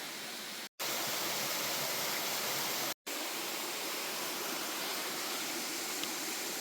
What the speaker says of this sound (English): I believe I hear the falls.